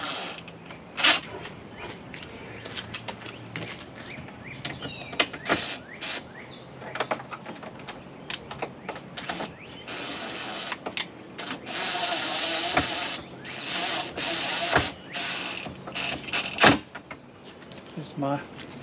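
A nut driver turns a nut on a plastic Suncast 134-gallon deck box, giving repeated scraping and clicking bursts of plastic and metal against each other at close range, with a few sharper knocks along the way.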